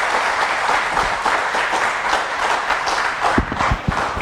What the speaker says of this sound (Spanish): ¿Cuántos pueden darle un aplauso a la palabra de Dios?